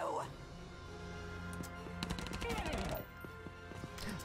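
Gunfire in the tactical war game Valkyria Chronicles 4, with several sharp shots and bursts rising over a steady game soundtrack while someone talks.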